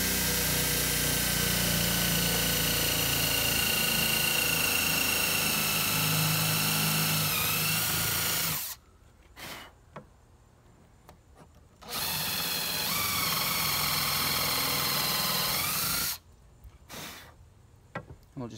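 A power drill bores a screw hole through wood into a backer plate in two long, loud bursts, each running steadily for several seconds before stopping, with brief quiet gaps and small clatters between them.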